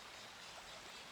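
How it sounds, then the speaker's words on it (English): A river flowing in an outdoor nature setting: a soft, continuous rushing wash of water, faint and steady, heard alone. "we've got the background of the river"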